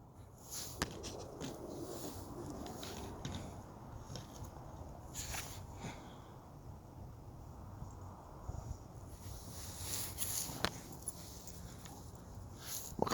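A dog whimpers softly and intermittently, close and faint, with light shuffling and footstep-like sounds in a quiet room.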